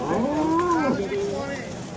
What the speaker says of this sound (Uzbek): O kuchli buqa chiqyapti.